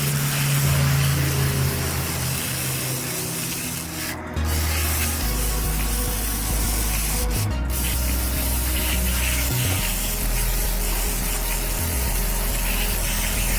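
A WD-40 aerosol can sprays steadily onto chair cloth in long continuous hisses, broken by two brief pauses, with a low engine rumble running underneath throughout.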